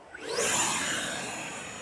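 A Horizon Hobby F-18 80mm electric ducted-fan RC jet passes with a loud rising whoosh and a high turbine-like whine that peaks quickly and then trails off steadily.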